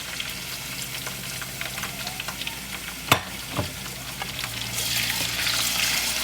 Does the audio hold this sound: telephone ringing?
no